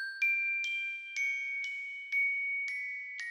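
Bright sampled bells from the Mallet Flux Kontakt library ring in a clean, slow sequence of about seven struck tones, each with a long sustain and no other sound.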